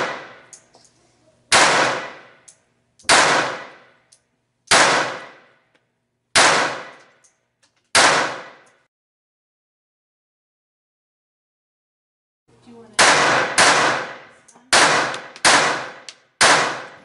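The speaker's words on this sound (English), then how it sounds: "the gun fired as smooth as can be" An RG-26 .25 caliber semi-automatic pistol firing Winchester 25 auto rounds: loud sharp shots, five spaced about a second and a half apart, a long silent pause, then a quicker cluster of five more, each decaying fast.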